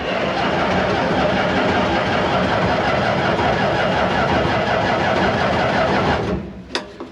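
Barn-find Massey Ferguson 300 tractor engine in neutral with choke pulled, running loud and steady with a broad rumble close by for about six seconds before cutting out, followed by a few faint knocks.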